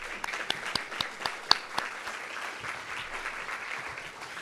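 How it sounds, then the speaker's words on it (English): At a research program meeting, an audience gives a round of applause, with a few sharp distinct claps near the front at first, then thinning into scattered, softer clapping. "So please, round of applause for Thomas."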